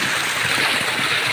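A strong flow of water at a river, a continuous rushing and gurgling wash heard close and fairly loud for the whole moment.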